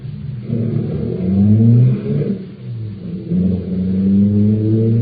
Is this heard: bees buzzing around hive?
no